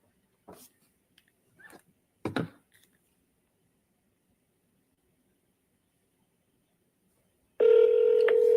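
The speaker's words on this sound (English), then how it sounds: "Oh, there we go. It's ringing." A few scattered clicks, then a long silence before a steady ringback tone begins on a phone line and holds to the end.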